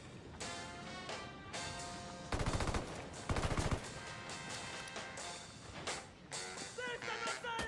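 Two short bursts of rapid automatic fire ring out in a shooter video game under a dense mix of game noise and effects, fairly quiet overall, with no voices standing out.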